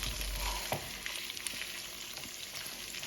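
Masala for mutton chops yakhni soup sizzles steadily in a pan, a dense continuous crackle with a few louder scrape-like pops from stirring, close and alone with no voices.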